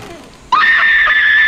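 A woman's sudden piercing scream from the horror film The Ring cuts in after a quiet moment and holds loud and sustained to the end.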